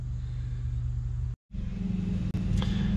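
A Bobcat S185 skid steer engine idles with a steady low diesel rumble, close and loud, broken by a brief dropout and a short click.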